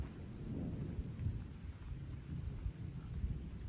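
Continuous low thunder rumbling through a night storm at a campsite, swelling and rolling with no sharp cracks, with rain pattering steadily underneath.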